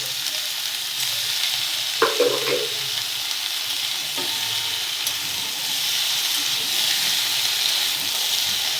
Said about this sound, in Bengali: এবারে দিয়ে দেব টমেটো লম্বা করে কেটে রেখেছি টমেটো